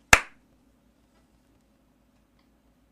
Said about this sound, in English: I'll get you to give me a clap on your end